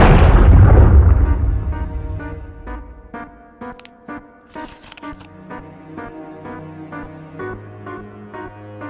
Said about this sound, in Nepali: घरमा बम पड्केछ